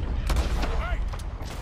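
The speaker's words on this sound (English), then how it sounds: "Let me start shooting" Rapid gunfire rattles out in a short burst in Red Dead Redemption 2, several sharp cracks over a rumbling low background, with a brief voice-like sound in the middle.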